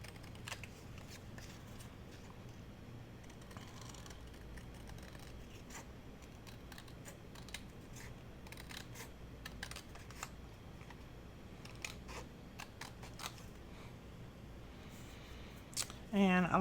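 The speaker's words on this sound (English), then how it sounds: "So let's cut these little tickets out." Faint, scattered snips and papery rustles as scissors cut small paper tickets out for a mini album journal, quiet and close, with a sharper clatter right at the end.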